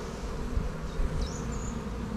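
Honeybees buzzing at an open hive during a spring honey check, a steady dense drone of many bees close by, with a few individual insects whining past, no talking.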